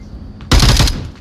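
A sharp, loud burst of rapid gunfire in the VR shooter Onward during a competitive match, starting abruptly after a faint earlier shot and lasting about half a second before cutting off.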